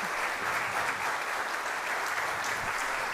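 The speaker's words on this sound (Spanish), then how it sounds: "el fuerte aplauso del público también" Sustained applause from an indoor audience at a presentation event, a dense, even wash of clapping at moderate distance that continues steadily without a break.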